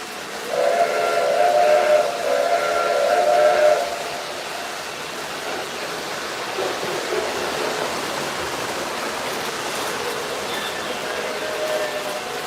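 A camelback steam locomotive in a train video game sounds a loud, wavering steam whistle for about four seconds. Steady hissing steam and rolling rumble follow as it pulls out.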